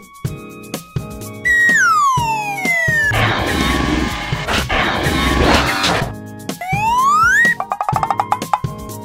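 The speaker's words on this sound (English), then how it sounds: "Fire truck." A fire truck siren rises and falls in loud, close wails, with a dense noisy burst in the middle and quick tapping clicks at the end.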